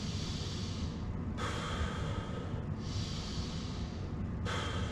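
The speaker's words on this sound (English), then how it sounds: "Take about 3 deep breaths." A person doing a Kundalini yoga exercise takes slow, deep breaths through the nose. The inhales and exhales are clearly audible and rhythmic, close to the listener and steady, with no talking.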